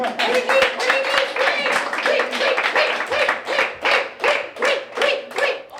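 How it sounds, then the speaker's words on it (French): Children clapping in a hospital in France, a lively, close round of uneven handclaps with rhythmic swells, mixed with voices talking and calling out throughout. "applaudissez-le quand même"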